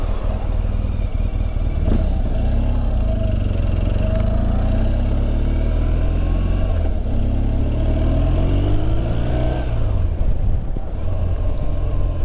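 A motorcycle engine runs steadily close to the microphone, with a low continuous rumble, rising and falling revs, and wind buffeting over the top.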